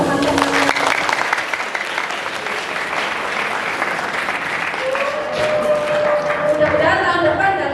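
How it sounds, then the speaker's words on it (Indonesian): Audience applause at a school talk show event, a steady, dense clapping crowd sustained throughout, with a voice speaking over it toward the end. "Tepuk tangan buat teman-teman."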